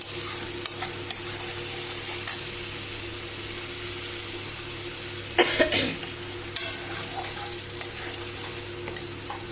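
Spices sizzle steadily in hot oil as they are sautéed for a bhetki fish curry, a continuous frying hiss broken by a few spoon-scrape stirs and one louder clatter midway, with no talking.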